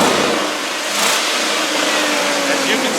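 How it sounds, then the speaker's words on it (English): Engine of a 2000 GMC Sierra 4x4 extended-cab long-bed pickup, started cold, revving loudly and close, a continuous strained roar held for several seconds. "I'm going to rev it up for you again and show you"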